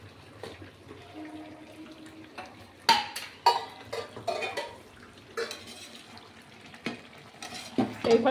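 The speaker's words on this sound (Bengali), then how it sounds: "এইবার দেখো আরেকবার একটু নাড়াচাড়া করছি" Goat meat curry being stirred in a pan, with scattered scraping and clinking of a spoon against the pot in irregular bursts, close and moderately loud, with faint background hum between strokes.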